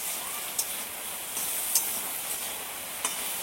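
Heavy rain falling after a morning-long downpour: a steady, even wash of hiss with a few faint sharp drip ticks scattered through, no talking.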